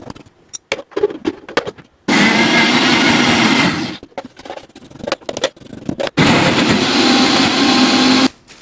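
A blender whirs loudly, mixing avocado juice with vanilla ice cream in two long bursts, separated by short gaps filled with clattering and handling of the jar.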